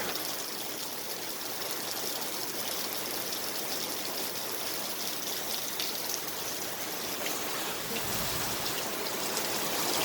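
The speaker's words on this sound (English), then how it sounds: "Just a little bit of rain." Light rain falls steadily at Disney's Fort Wilderness campground, a constant soft hiss with dribbling water like runoff or a trickle, with no talking.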